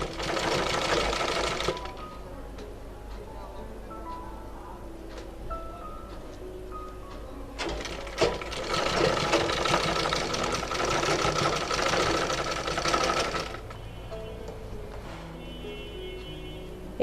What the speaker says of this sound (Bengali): এরপর এখান থেকে এভাবে করে নিয়ে সেলাই করে ফেলবো